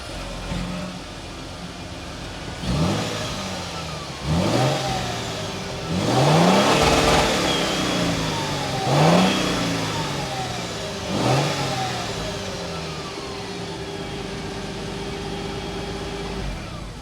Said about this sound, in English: let's take a listen of this hybrid powertrain exhaust